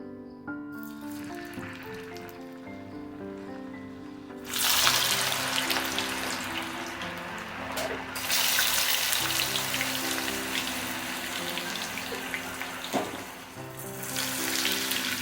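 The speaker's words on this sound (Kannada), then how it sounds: "ಚೆನ್ನಾಗಿ ಫ್ರೈ ಆಗಲಿ." Homemade french fries frying in hot oil, a steady bright sizzle that swells louder when more potatoes go in, with faint background music running underneath.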